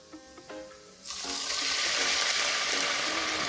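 After a second of faint clinks, a loud, steady sizzle of lamb lollipops frying in a hot pan with ginger wine starts and keeps going.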